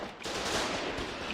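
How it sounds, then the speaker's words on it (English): Dense gunfire from both sides in the war game Foxhole crackles as a brief, rapid burst of overlapping shots, heard at a moderate distance. "Lots and lots of gunfire coming out from both sides."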